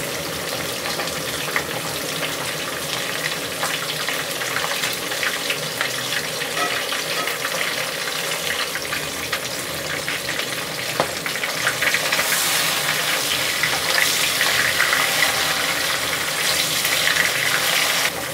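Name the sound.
rohu fish frying in hot oil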